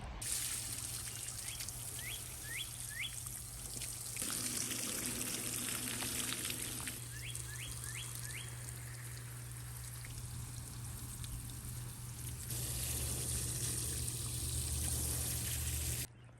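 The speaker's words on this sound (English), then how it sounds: "Watering it in that first day really helps." Water pours and trickles steadily into the soil around newly planted Green Giant arborvitae root balls outdoors, a constant splashing wash with birds chirping faintly in the background.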